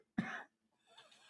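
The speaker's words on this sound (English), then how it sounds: "I just said the word live and started coughing." A single hoarse cough bursts out close by, followed by a quieter throat-clearing rasp.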